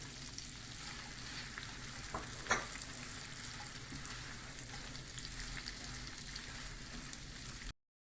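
Green peppers sauté in a pan for a shrimp casserole, a quiet steady sizzle with a brief scrape of stirring near the start, alone and fairly faint until it cuts off abruptly.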